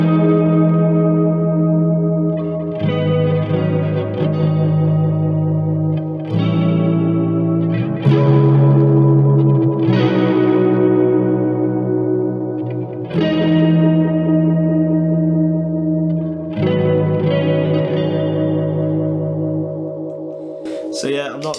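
An electric guitar on its neck pickup, clean tone through a pedalboard with ambient effects, plays sustained chords that ring and swell with chorus-like shimmer and echo tails, chords changing every few seconds, loud and close, no talking.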